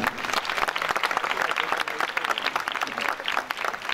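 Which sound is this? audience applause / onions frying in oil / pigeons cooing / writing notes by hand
audience applause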